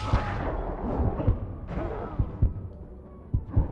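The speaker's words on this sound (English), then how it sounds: "Did I dodge the explosion or no?" Explosions and impacts in the action game Code Vein during a boss fight, several heavy low thuds and booms scattered across a few seconds, close and punchy.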